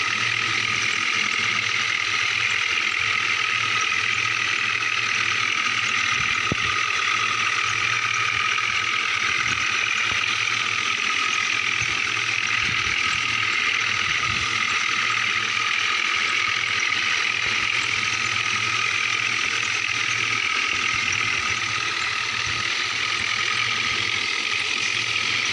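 A truck engine idles steadily in a truck driving video game, a constant mid-pitched drone with a bright hum over it and one brief click partway through.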